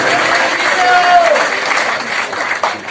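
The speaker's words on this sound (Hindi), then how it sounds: "जोरदार तालियां सोनू भाव के लिए" Loud applause from a crowd at a birthday celebration in Indore, honouring club admin Sonu, with dense clapping under a steady roar and a voice rising briefly over it.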